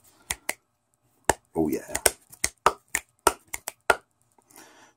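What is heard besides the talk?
finger snapping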